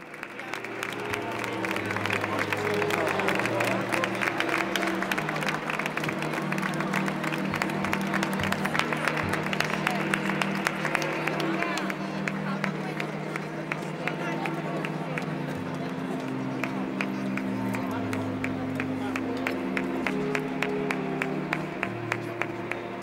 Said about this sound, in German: Beifall für den Altpapst.